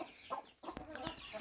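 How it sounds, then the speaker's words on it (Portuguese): A fighting-breed rooster clucks in short throaty bursts, close by, with a few brief irregular calls and small pauses between them. "aquela raça de galo de briga"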